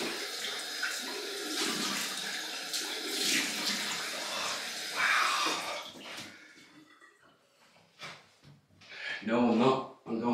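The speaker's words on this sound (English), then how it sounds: "Cold water rinse." Tap water runs into a basin for a cold rinse after a shave with a Muhle Rocca razor, a close splashing flow for several seconds that breaks into intermittent splashes and handling sounds, with some talk mixed in.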